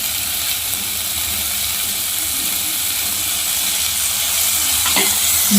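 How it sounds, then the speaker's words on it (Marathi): Finely chopped tomato frying for matki misal fills the clip with a loud, steady sizzle and hiss, with faint stirring underneath and a brief clink near the end. "त्यानंतर आपण त्यामध्ये बारीक चिरून घेतलेला टोमॅटो टाकून घेऊया"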